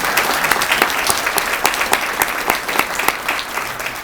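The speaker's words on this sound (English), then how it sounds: "So I'd like to give them all a round of applause if we could." A crowd at a hometown heroes event claps in a round of applause, with dense, steady clapping held at an even level throughout.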